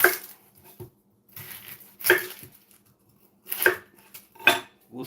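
Onion sliced with a knife on a cutting board while making a pork loin Philly cheesesteak in a home kitchen, giving a few sharp, close chops spaced apart with quiet gaps between them.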